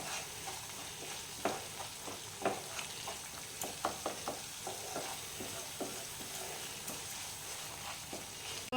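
Spice paste (masala) for a prawn malai curry sizzles steadily in hot oil in a pan while a spoon stirs it, producing a string of light scraping taps over a constant close frying hiss.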